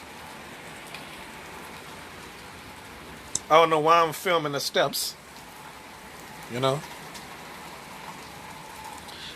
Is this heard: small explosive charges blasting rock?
no